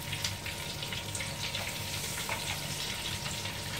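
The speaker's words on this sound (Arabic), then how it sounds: "دابا غادي نقليو الرنديلات ديالنا بعد ما سخنات الزيت مزيان" Eggplant boats fry in hot oil with a steady, close crackling sizzle that holds at an even level throughout, with no voices.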